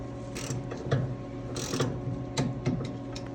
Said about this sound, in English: Now let's torque down the valve covers.